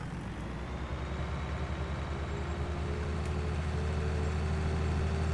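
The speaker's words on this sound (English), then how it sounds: "So in-game tractors, they don't sound too bad." Fendt tractor engine in Farming Simulator 19, a steady low droning rumble with a constant hum, running continuously and fairly loud throughout with no talk.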